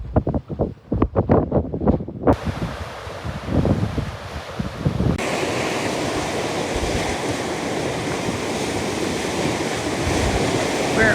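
Rough ocean surf pounds the rocky coast near Cape of Good Hope, with loud, broad wave wash building into a steady roar, and wind buffeting the microphone in gusts early on.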